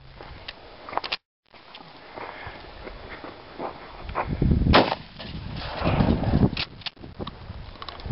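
An outdoor shotgun blast rings out near the middle, loud and sharp with a rumbling tail, amid wind noise and a few smaller clicks and knocks of handling.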